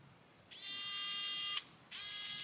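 A small xCool mini electric precision screwdriver whirs with a high, steady motor whine, running for about a second, stopping briefly, then starting up again, close to the microphone with no talking.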